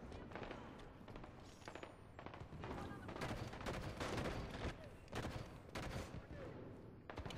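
Rapid battle rifle fire in Halo 5: Guardians, bursts of shots cracking in quick succession throughout, loud and dense, with other gunfire and game effects layered beneath.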